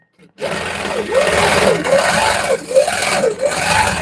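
A sewing machine runs continuously while dense quilting is stitched into a small quilt, its whirring motor rising and dipping in rhythmic surges as the fabric is moved.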